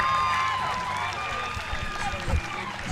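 Crowd at a baseball state championship game cheers and claps, a broad roar with whoops, while a commentator speaks over it.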